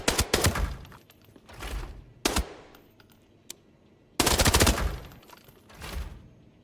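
Automatic gunfire in the shooter game Arena Breakout Infinite: several loud, close bursts of rapid shots with short pauses between them and one lone single shot, with no talking.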